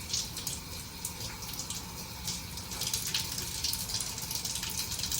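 Fresh coriander leaves are rinsed under a running kitchen tap, giving a steady broadband rush of flowing water with small splashes, close and continuous throughout.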